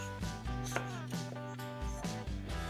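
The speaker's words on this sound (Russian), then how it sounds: "Разрезаем его на кусочки вот таким образом." Knife slicing a cucumber into thin pieces, soft repeated cuts over music in a kitchen, no voices present.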